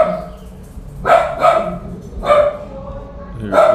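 A pet dog barks in a room, four loud sharp woofs in two spaced pairs, close by, with no voices.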